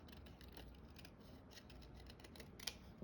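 Scissors snipping during close trimming work, faint quiet cuts over low room noise with a slightly sharper snip near the end, no voices.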